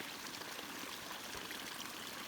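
A woodland stream trickles and flows steadily, a soft, continuous, fairly faint wash of water with no voices.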